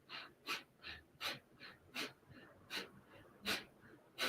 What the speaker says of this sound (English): Inhaling, exhaling.